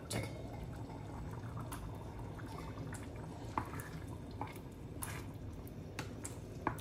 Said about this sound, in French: on laisse mijoter un petit peu. Un couvercle et mijote